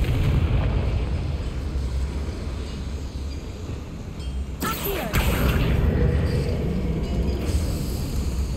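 The Confringo explosive spell goes off in Hogwarts Legacy over a dense, roaring game-mix background, with one sharp burst cracking out midway and then rumbling on.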